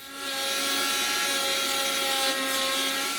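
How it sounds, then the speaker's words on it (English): A rotary polishing wheel whirs against the frets of a Casio EG-5 guitar during restoration, starting up and holding a steady high whine with a faint scuffing rub. Close and alone. "then I'll go in with a polishing wheel"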